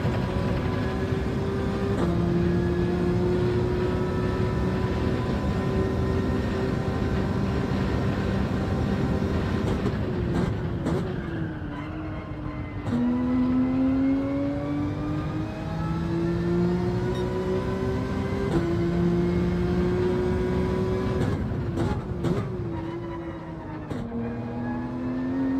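Porsche Gr.3 race car in Gran Turismo 7 at Sardegna, a loud sustained engine drone rising and falling through gear changes with sharp shift breaks, running alone without voices.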